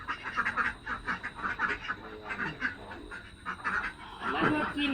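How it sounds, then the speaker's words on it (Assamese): Ducks quack in a steady run of nasal calls at a rural Assamese farmhouse with cattle nearby, moderately close, with some voices mixed in underneath. "ইয়াত হাঁহ ভণ্টি ভাইটিকেইটা তৰতৰাই আছে।"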